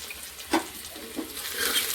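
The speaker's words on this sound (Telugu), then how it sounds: "ఇప్పుడు దీంట్లోకి మనం అల్లం వెల్లుల్లి పేస్ట్ యాడ్ చేసుకుందాం" Ginger garlic paste hits a hot pan for a Telangana-style curry, raising a soft, steady sizzling hiss that swells toward the end, with a couple of faint taps from a utensil.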